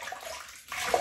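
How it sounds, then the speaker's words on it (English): Water splashing as a face is rinsed before a shave, a quick close-up wet splash and sloshing of cupped water, brief and moderately loud, with no talking over it. "we'll rinse the face first"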